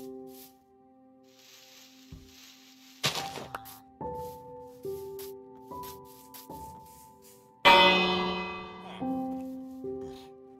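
In the video game Minecraft, a village bell rings out clearly several times in steady sequence, each strike ringing on with a sustained tone, over soft in-game ambience.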